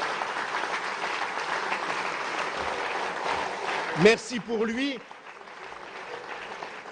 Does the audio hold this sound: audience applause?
yes